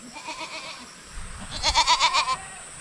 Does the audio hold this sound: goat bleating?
yes